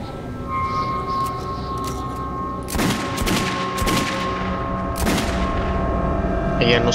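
Gunfire in the video game Metro 2033, a cluster of sharp, loud shots and cracks over a humming, rumbling game background, with a few more isolated bangs afterward.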